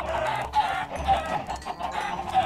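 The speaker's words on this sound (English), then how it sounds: "I will kill some chickens to do just that." Chickens clucking in the Minecraft video game, repeated short clucks and squawks in quick succession over a busy background, with no voices.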